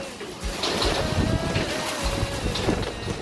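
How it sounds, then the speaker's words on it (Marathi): Strong gusting wind with heavy monsoon rain in Parbhani, pouring hard enough to soak coolers indoors, a continuous loud broadband roar and rush with buffeting gusts close to the microphone, no speech. "एवढं सोसाट्याचा वारा आणि त्यामध्ये फुल पाऊस"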